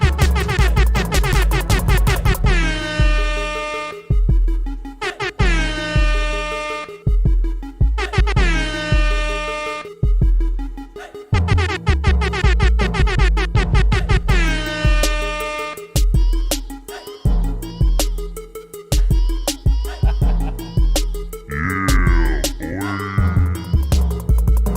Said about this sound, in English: let's get the air horn back out